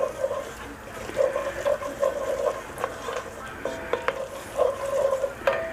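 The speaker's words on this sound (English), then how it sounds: "stir it around a bit" Flour and oil roux being stirred in a pot for a smoked turkey gumbo, a soft scraping swish repeating in steady strokes up close, with faint clinks of the utensil against the pot.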